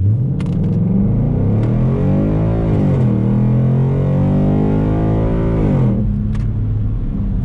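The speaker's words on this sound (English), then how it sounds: "So I'll do a little pull right here from a dead stop" Ford Mustang GT with a flood title launching hard from a dead stop on a cold day, its loud V8 rumble rising through the revs, easing at a shift and climbing again before backing off.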